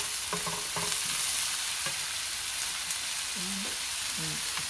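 Food is stirred and fried in a pan, with a continuous bright sizzle and several scraping strokes of a spoon at an uneven rhythm. No one speaks.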